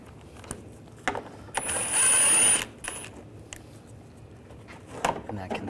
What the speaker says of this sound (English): we're going to take these screws out,